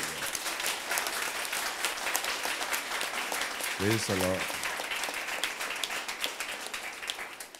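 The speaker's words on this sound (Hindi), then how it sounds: "जिन्होंने ये वचन ग्रहण कर लिया वो जोर से तालियां बजाएं" A church congregation claps loudly throughout a service, dense sustained applause filling the room, with a brief spoken voice rising over it midway.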